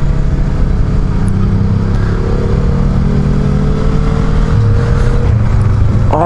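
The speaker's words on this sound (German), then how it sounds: "die MT-07 hört sich so sexy an von hinten" An MT-07 motorcycle engine heard from behind on a ride through sharp curves in Switzerland, a loud, continuous droning engine with steady wind rush and slight pitch shifts.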